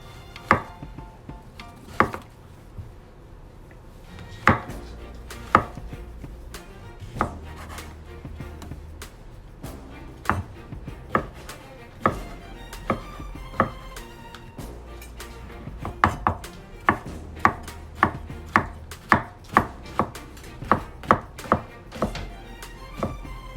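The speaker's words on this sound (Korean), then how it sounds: "새송이 버섯 또한 작게 썰어주세요" King oyster mushrooms being chopped small with a knife on a cutting board for a cream risotto, giving a long run of crisp, close taps and thunks in irregular bursts with short pauses between.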